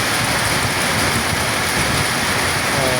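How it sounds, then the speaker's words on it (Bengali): Heavy rain pours down at a river ferry ghat on a char where boats take on passengers, a dense, loud, unbroken hiss filling the whole stretch with no voices. "বৃষ্টি হচ্ছে"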